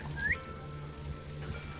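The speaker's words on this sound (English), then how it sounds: "I wonder who would hear me if I whistled." A brief rising whistle from a character in the video game Assassin's Creed Shadows, short and thin above a low, steady background drone, fairly quiet overall.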